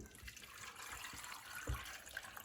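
Water is poured into a Thermomix for chicken and vegetable couscous, giving a faint, steady splashing trickle with a few soft knocks, with no voices.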